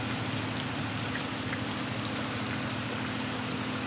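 Heavy early morning rain pours down over a flooded residential street, a dense, constant hiss of drops striking surfaces and running water, fairly close and unbroken throughout, with no voices.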